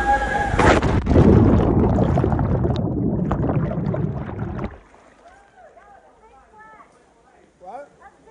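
A cannonball jump into a waterfall pool at the Damajagua Waterfalls in the Dominican Republic hits with a loud splash and a few seconds of churning water, then fades to quiet dripping while voices carry on nearby.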